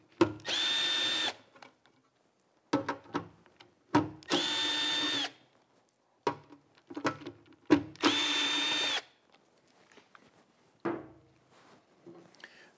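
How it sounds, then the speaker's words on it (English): A 5/16 driver spinning out four screws from a metal-grinding dust collector: three bursts of steady, high power-tool whine, each followed by clicks, clunks and handling knocks of screws and metal parts, close and fairly loud. "grab our 5/16 driver and remove all 4 screws"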